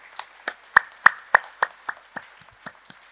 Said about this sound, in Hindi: एक बार बुद्ध भगवान के लिए, ओ तथागता के लिए एक बार जोरदार तालियां।